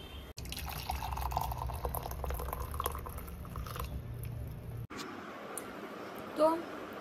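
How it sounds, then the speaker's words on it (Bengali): Water heating in a pot on a gas stove, not yet at a full boil, gives a steady close bubbling and hiss with faint drips, which cuts off into quieter room noise near the end. "এই যে ফুটছে, এখনো পুরোপুরি ফুটে ওঠেনি।"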